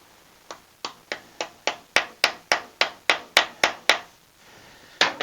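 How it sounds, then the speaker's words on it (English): A hammer taps a part onto a Honda SH300i scooter in about a dozen crisp, evenly spaced knocks close by, followed by a pause and one more tap. "I'm going to tap that on a bit with a hammer"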